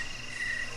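A crickets chirping effect from a pinball soundboard on a 1987 Gottlieb Victory pinball machine, a brief steady high trill played alone.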